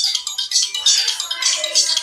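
A phone rings with a bright, chirping electronic tone that repeats in quick pulses, loud and close, lasting about two seconds.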